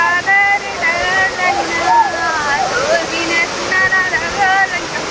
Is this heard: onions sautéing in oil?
no